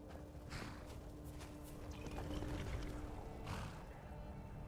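Faint, quiet clip-clop of horse hooves walking in a video game, a soft rhythmic patter alone against a low background.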